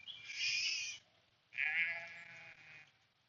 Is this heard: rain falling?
no